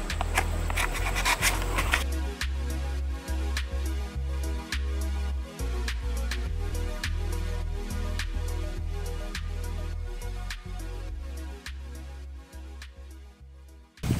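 Hand sanding a pedal cart with 320-grit sandpaper makes a steady rapid scratchy rubbing, close and continuous, with regular back-and-forth strokes for the whole stretch.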